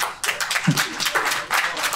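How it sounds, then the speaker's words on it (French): Applause at an MMA press conference, a steady wash of clapping from a crowd with the noise swelling and easing in waves over two seconds, mixed with indistinct voices. "je demande à ce qu'on m'applaudisse pour ça"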